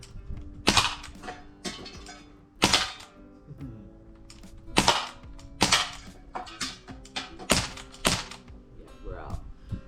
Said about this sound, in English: we're going to do last 12 shots through here